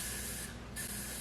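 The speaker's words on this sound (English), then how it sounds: "So now I'm going to go in with some WIG spray." A nearly empty aerosol can of wig spray hisses in two short bursts separated by a brief gap, close and steady, with no voices.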